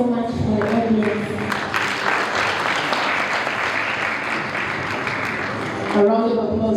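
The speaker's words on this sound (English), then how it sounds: "A round of applause for this team." Steady applause from a conference audience at a Ugandan national conference on health, human rights and development, continuous for several seconds, with a voice talking at the start and again as the clapping ends.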